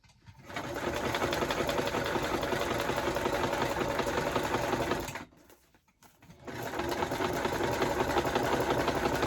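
A sewing machine zigzag stitching a homemade travel-kit lap book runs in a steady, close mechanical chatter for about five seconds, pauses briefly, then resumes stitching.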